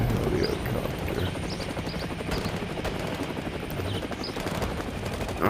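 Helicopter in the War Dust VR video game, a steady rotor chop heard alongside bursts of rapid gunfire in a busy battle mix, continuous and fairly loud.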